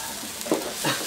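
Lechon sisig being mixed in a hot pan after a squeeze of fresh calamansi juice, a brief close scrape of stirring over a steady sizzle.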